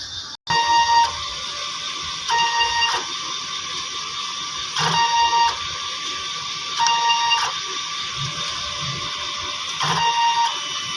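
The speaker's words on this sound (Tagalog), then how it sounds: "Head clean." A DTF printer runs a print head cleaning cycle, giving a steady mechanical whir with bright tonal beeps and pump pulses repeating roughly every two to three seconds, fairly close and with no talk.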